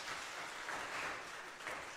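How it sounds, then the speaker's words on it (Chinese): A church congregation claps together at a youth gathering, a dense, steady wash of many hands with gentle swells in intensity, sustained throughout with no talk. "我们一起拍掌，荣耀我们的上帝。"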